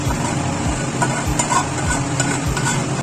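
Egg semolina pakora mixture being stirred in a pan, with a steady sizzle and a regular rhythm of scraping strokes, close and fairly loud, no talking.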